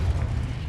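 Confringo blasting spell explosion in Hogwarts Legacy, a brief deep rumbling boom, fairly loud, with no voices over it.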